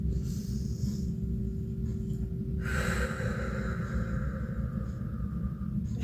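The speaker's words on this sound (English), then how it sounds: "trace with your finger and intentionally take a breath in" A single slow, deliberate in-breath, guided by tracing a wooden labyrinth breathing board, rises softly and close after a quiet start, over a steady low hum.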